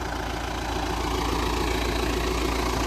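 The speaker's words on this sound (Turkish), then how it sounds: "Motor çalışıyor." A tractor engine runs steadily at idle, a continuous low rumble with a dense, slightly knocking mid-range texture, loud and close throughout with no talking.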